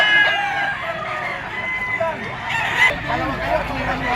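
Gamefowl stags crow and cluck at a busy market, several calls rising close over a continuous background of chatter and talk.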